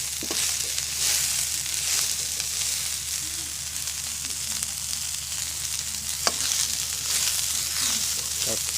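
June beetles, wings removed, fry in hot oil until crispy, producing a loud, continuous close sizzle and crackle with a few stirring clicks throughout.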